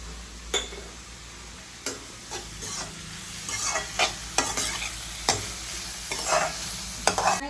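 Onions sauté in a pan with a soft, continuous sizzle, broken by repeated sharp scrapes and taps of a spoon stirring against the metal.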